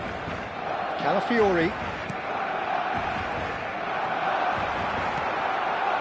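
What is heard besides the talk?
stadium crowd in football video game PES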